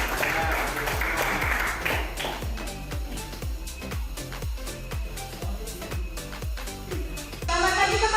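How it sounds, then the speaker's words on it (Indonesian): A classroom group applauds a group of students about to present, with loud, rhythmic clapping in unison and a close, busy texture. "Tepuk tangan untuk kelompok 4."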